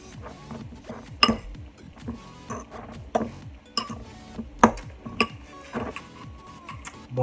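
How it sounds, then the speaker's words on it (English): A fork stirs food around in a dish, giving a series of light, close clinks and scrapes in an irregular rhythm. "Take your fork. Stir them around just a bit."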